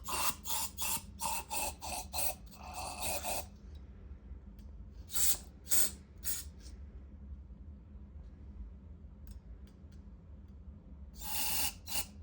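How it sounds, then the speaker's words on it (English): Gumout carb cleaner hisses in short aerosol bursts into the carburetor orifices of a 1964 Evinrude 9.5 HP outboard motor. A rapid cluster of sprays comes first, then scattered single blasts separated by quiet pauses. "Just gonna spray all the orifices."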